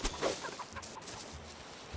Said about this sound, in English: Oh, there's some chickens.